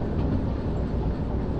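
Train rolling along the rails in Derail Valley, a steady close rumble with faint rail clatter throughout, heading toward a possible uphill stretch.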